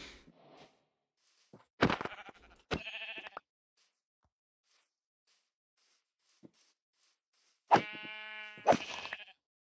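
Sheep in Minecraft bleating in a few separate quavering calls, two early and two later, with quiet gaps between them and no talk.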